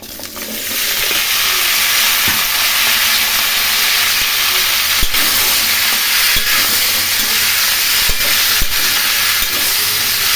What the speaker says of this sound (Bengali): খুব ভালো করে সবজিগুলো ভেজে নেব।